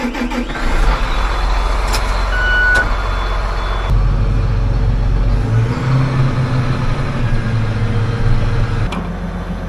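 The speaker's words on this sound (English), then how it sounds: "I'm gonna back this air seeder out, get it unhooked," A tractor backs up with an air seeder hitched behind, its steady reversing beeps sounding over a low diesel engine rumble, with a brief hiss partway through.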